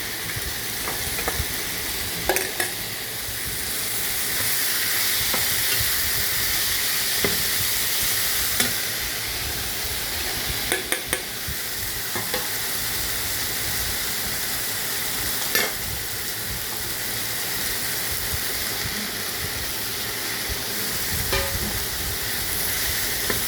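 Marinated rice frying in a pan for fish pulao, with a steady loud sizzle throughout and repeated scraping clicks as it is stirred, no voices.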